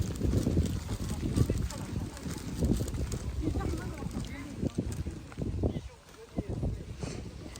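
Horses walk with a steady clip-clop of hooves at the Genghis Khan Statue Complex in Mongolia, where people ride through open landscape; gusty wind buffets the microphone and voices murmur throughout.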